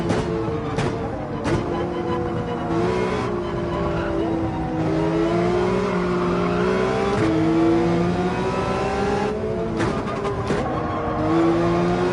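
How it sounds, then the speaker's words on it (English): Race car engine in Gran Turismo 7 revving hard and over-revving after a big gear drop, a sustained loud whining drone with pitch swings and sharp shifts, tire squeal mixed in. "That was over rev."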